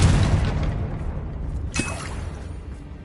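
A Confringo fire spell goes off in Hogwarts Legacy as a loud booming blast that opens the clip, followed by a sharper burst near the two-second mark over a rumbling battle background, with no talk.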